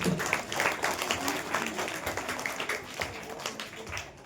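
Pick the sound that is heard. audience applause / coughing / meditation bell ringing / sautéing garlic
audience applause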